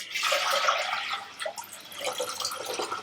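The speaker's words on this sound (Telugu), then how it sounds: "మనం వాటర్ పోసేసుకుందాం." Water poured into a vessel over soaked rice, half a kilo of it, for mutton biryani; a steady, close splashing and gurgling pour that carries on for about three seconds with no talk.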